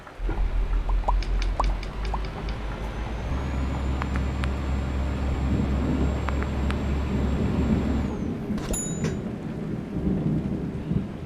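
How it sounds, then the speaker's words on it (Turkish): Freezing rain in Euro Truck Simulator 2 patters steadily on a truck, with rolling thunder and a low engine drone beneath, plus a few sharp clicks and a hiss toward the end. "Soğuk yağmur dediği bu işte yani buzlu yağmur."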